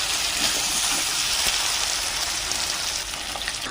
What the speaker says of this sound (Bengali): তেল ছেড়ে দিয়েছে মাছটা হয়ে এসছে